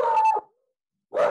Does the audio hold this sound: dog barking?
yes